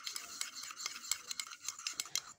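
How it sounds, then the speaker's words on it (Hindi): A homemade sugar skin remedy mixture being stirred in a bowl, with soft repeated scraping and clinking strokes close by, a steady rhythm of gritty swishes and no talking. "इसको हम अच्छे से मिक्स कर लेंगे"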